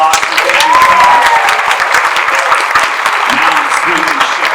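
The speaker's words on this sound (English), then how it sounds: "Let's give them a round of applause for Baby Shark." Loud, close applause from a talent showcase audience cheering young Baby Shark performers, with dense continuous clapping and a voice speaking over it.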